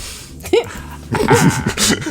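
A dog barks close by, a few short yipping barks mixed with voices talking over and around it.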